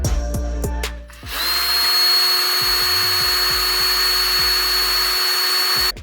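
A cordless drill fitted with a brushless motor gives a few short bursts, then whines at a steady high pitch for several seconds before stopping, loud and close.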